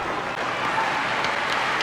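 A live audience breaks into steady, dense applause, a continuous wash of clapping held at an even level throughout the short stretch, with no speech over it.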